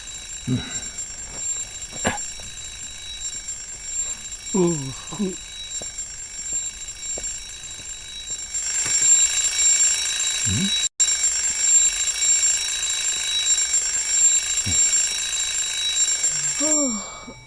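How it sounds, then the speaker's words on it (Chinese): After a few brief voices, an alarm clock starts ringing with a steady, shrill electronic tone that continues for several seconds before stopping. "你儿子房间里的闹钟响了"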